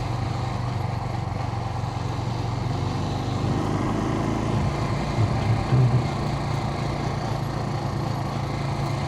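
A Suzuki TU250X motorcycle climbs a hill with a steady, droning single-cylinder hum that stays continuous and fairly even, rising slightly in a few short swells.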